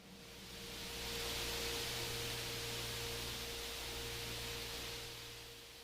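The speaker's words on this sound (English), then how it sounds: "that large amount of hiss is the result of vigorous boiling and churning at the surface of this large red giant star" Vigorous boiling and churning at the surface of a large, low-density red giant star, converted to sound, comes through as a broad, steady hiss with a faint hum beneath it, swelling and fading slightly.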